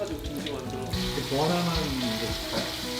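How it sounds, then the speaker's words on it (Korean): Cheese-filled potato balls frying in cooking oil in a military kitchen, giving a steady close sizzle and bubbling with some clatter and kitchen noise in the first second. "기름 속에서 노릇노릇 튀겨지는 치즈 감자."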